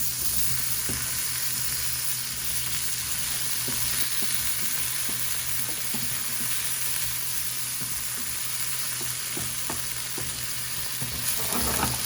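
Butter melting in a hot pan for a cheese omelette, frying with a steady, continuous sizzle that stays close and even throughout, with faint scraping or stirring ticks scattered through it.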